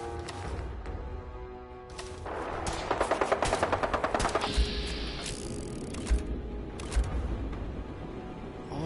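Rapid automatic gunfire from a gunner attacking in Fallout 4 rattles in a quick burst, followed by a few isolated single shots and scattered mechanical clatter at moderate volume.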